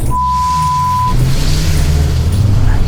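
A Volvo 940 Turbo is driven hard on a rallycross track, its engine roaring close and loud as it accelerates, with a brief steady tone at the start.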